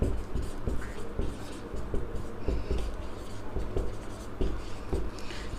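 Chalk or marker writing on a board in a physics lecture on electric field intensity, a steady scratching with repeated short strokes and taps, fairly close and alone.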